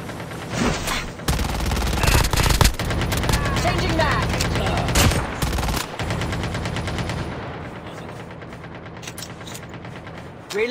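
Rapid automatic gunfire from a Call of Duty match crackles in dense, close bursts with brief gaps, then tapers into quieter scattered shots and background game noise.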